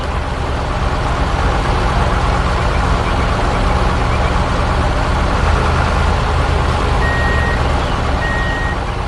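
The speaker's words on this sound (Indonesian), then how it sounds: "Sekarang giliran truk pengangkut beraksi." An animated dump truck's engine drones steadily and loudly throughout, with a couple of short beeps near the end.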